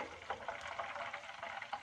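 Chicken gizzards frying in oil, a faint continuous crackle and sizzle with small irregular pops, heard close and alone.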